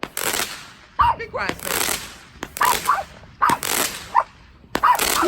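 Backyard Fourth of July fireworks going off in quick succession, sharp cracks and bursts arriving in rapid clusters with short pauses between them, fairly close, while people chat and call out nearby.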